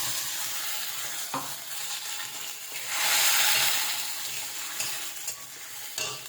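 Spice paste fries in hot oil for a prawn curry with prawn fritters. A steady close sizzle runs under scraping stirs, swells in the middle and then settles, with no talk.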